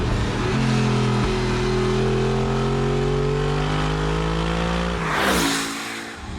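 An Audi R8 V8 revs hard as the driver blips down into bends and gets back on the throttle, its loud, close engine tone climbing and dropping in pitch, followed by a brief whoosh near the end.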